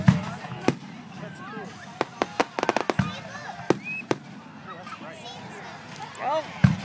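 Fireworks burst very close overhead in sharp cracks and crackling pops at an irregular pace, some in quick clusters, while people talk and react nearby.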